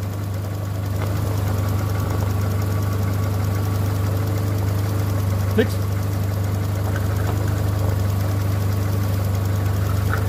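An old car engine idles steadily with a low, even hum and no stumbling, running continuously throughout.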